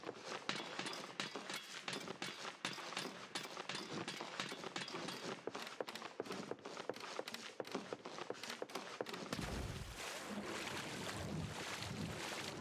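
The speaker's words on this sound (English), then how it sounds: "Running in the water." A character runs through water in the game Whitestone, with rapid, steady splashing footsteps throughout and a low wind-like rumble toward the end.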